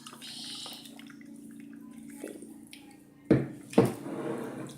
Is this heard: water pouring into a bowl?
yes